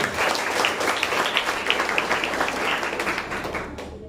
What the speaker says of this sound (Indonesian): Tepuk tangan untuk Miss Wahyuni.